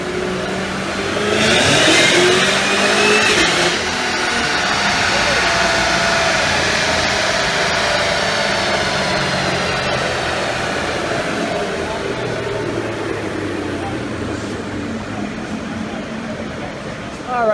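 Supercharged Chevrolet Camaro ZL1 engine of about 640 horsepower on a dyno, roaring up through a long hard pull with rising, whining pitch, then easing off into a steady drone before a final blip; close and loud.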